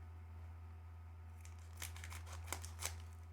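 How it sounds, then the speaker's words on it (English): Scissors snipping through thick trading cards, a few faint crisp cuts and crinkles close by against a low steady hum, no talk. "Try to cut the cards."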